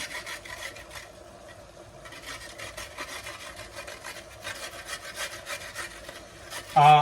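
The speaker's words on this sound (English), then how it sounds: "we're going to get our grater and we're just going to grate it over the top of our meal" A single carrot is rubbed over a hand grater above a pan of nasi goreng, giving soft repeated rasping strokes in an uneven rhythm, fairly quiet and close, ending with a sharp louder knock.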